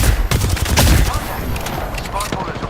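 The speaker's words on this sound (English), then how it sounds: "The enemies are shooting at me." Rapid bursts of enemy gunfire in Apex Legends, loud and close, a dense crackling fusillade that fills the whole moment with overlapping shots.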